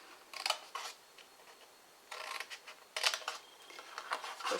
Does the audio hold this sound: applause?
no